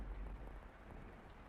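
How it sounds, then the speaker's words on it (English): Pouring rain in the video game Fata Morgana, a faint, steady wash of broadband hiss with no breaks, heard alone with no voices. "The sound of the pouring rain drowned out everything"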